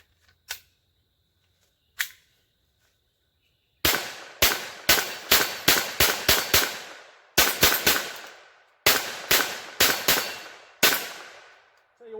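A Kel-Tec P17 pistol fires Aguila Subsonic 40 grain solid point rounds: two isolated faint pops, then a rapid string of about fourteen sharp, close cracks in quick bursts with short pauses, each with a brief ringing tail.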